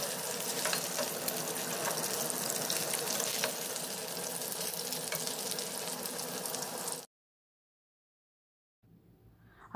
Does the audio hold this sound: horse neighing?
no